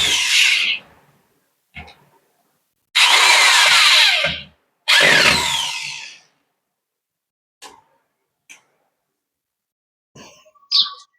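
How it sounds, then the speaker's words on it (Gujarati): A power screwdriver drives screws while a TV is mounted on a wall, running in three bursts of whirring of a second or two each, followed by brief taps and clicks in a quiet room. "પછી સ્ક્રૂ ડ્રાઈવરથી કરી નાખીશું ટાઈટ"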